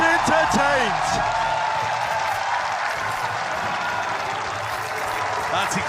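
Esports crowd at VALORANT Masters Tokyo cheering and applauding in a large arena, a dense sustained roar under an excited commentator's voice that fades into a steadier wash of crowd noise.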